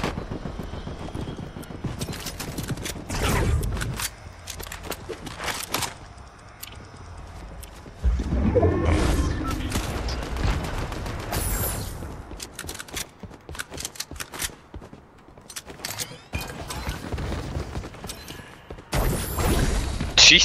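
Gunfire in a battle-royale video game: bursts of sharp shots and rapid volleys scattered throughout, loud and close, mixed with thumping footfall-like impacts and other game noise.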